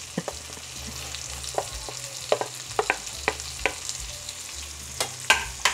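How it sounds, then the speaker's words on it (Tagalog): Onion and garlic sauté in a pan for a rainy-day sopas, with a continuous low sizzle and a run of quick, crisp spatula taps and scrapes, close up, with no talking. "igisa lang natin yung sibuyas sa kabawang"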